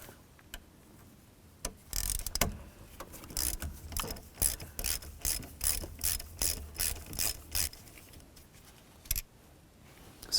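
A ratchet backs out T25 screws from the steering column of a 1992-99 GMC K1500, making quiet, close bursts of rapid mechanical clicking in a steady rhythm, with short pauses between runs.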